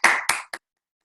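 A few claps of applause welcoming the grammarian at an online club meeting, three close, quick hand claps that stop abruptly into silence.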